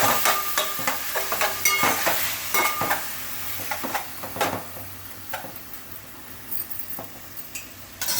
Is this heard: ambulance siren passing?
no